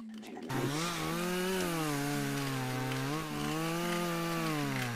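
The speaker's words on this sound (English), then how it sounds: "It's time for the rotisserie cheese sieve." A rotary cheese grater works through a block of cheese with a continuous, fairly loud whirring, grinding drone that wavers slightly in pitch for several seconds, with no talking.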